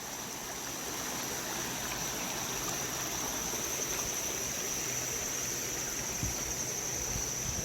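The Potomac River flows beside an old canal towpath, producing a continuous, even rushing of water that sounds moderately close, with a faint high steady tone above it.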